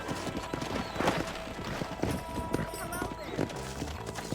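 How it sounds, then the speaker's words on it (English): A horse in the video game Red Dead Redemption gallops in with rhythmic clip-clop hoofbeats and a brief whinny, heard under a player talking over the game sound. "Ah, meu cavalo vem vindo aqui, ó."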